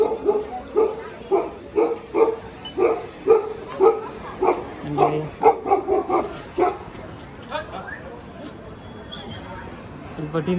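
A dog barks repeatedly in a steady rhythm, fairly close, in Manali, Himachal Pradesh, then the barking fades into quieter yips and whimpers.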